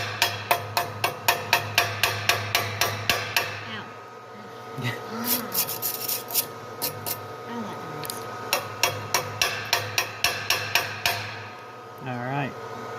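A hammer chips slag off a fresh stick weld on steel in a series of sharp, evenly spaced metallic taps, with a pause in the middle and a faint voice near the end.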